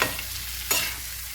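Mutton frying in a pan gives a steady, close sizzle with a brief louder burst of spatter partway through, no voices.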